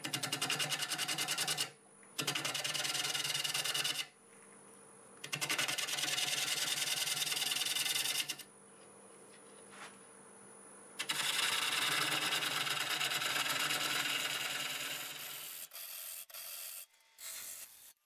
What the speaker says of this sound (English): Then I'll start hollowing it out